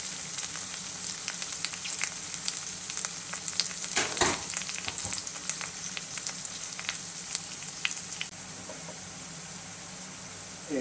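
Chopped onions, green chilies and curry leaves fry in hot oil with a steady, close, dense sizzle that crackles on without pause and with no voices.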